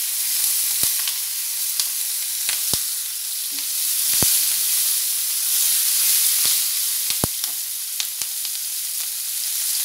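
Chopped capsicum frying in a pan for capsicum gojju, a continuous bright sizzle with scattered sharp pops and crackles, loud and close with no voices.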